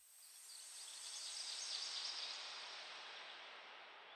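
Soft, steady outdoor ambience with a muffled, airy wash and faint high chirps, rolled off at the top and smoothed with a gentle reverb tail.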